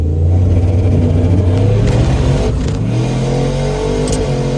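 A turbocharged Dodge Dakota RT drag truck held on the brake at the staging line, its engine droning loud and close in a sustained high-rpm rumble that wavers slightly, with no voices.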